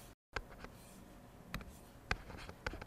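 Marker or chalk writing on a board produces a few soft, scratchy strokes with short taps between them, heard close and faint in a quiet room.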